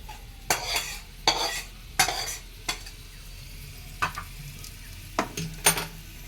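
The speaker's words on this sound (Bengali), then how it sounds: "এই সমস্ত গ্রেভিটা আমি দিয়ে দিচ্ছি এর মধ্যে" Gravy for chilli chicken being stirred in a pan: sharp spatula scrapes and taps strike the metal in a loose rhythm over a steady low sizzle, close up with no talk.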